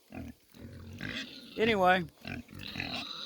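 Pigs in a pen grunting near and fairly loud, with a stretch of squealing, oinking calls mixed in, while someone talks over them in between.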